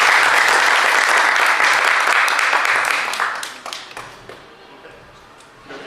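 An audience at a dinosaur talk event applauds with dense, loud clapping that tails off into scattered claps and a few voices after about three seconds.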